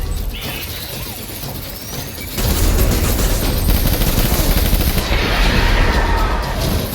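Sustained automatic gunfire from a Death Stranding battle, rapid loud bursts that begin softer and then swell into a dense, continuous barrage with crashing impacts and almost no talk.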